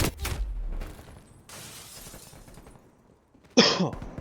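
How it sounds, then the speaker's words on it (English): One sharp, harsh cough sounds close by after a few seconds of faint background noise. "I had a cough there quick"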